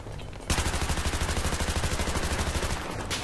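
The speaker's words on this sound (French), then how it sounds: "Ils sont où avec leur mitraille?" Rapid machine gun fire in the shooter game Battlefield 3, a loud sustained burst of evenly spaced shots starting after a short quiet lead-in and running for nearly three seconds.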